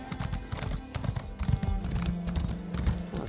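Horse hooves clip-clop in a steady trotting rhythm in The Elder Scrolls Online, close and fairly loud over a low game ambience, with an occasional whinny.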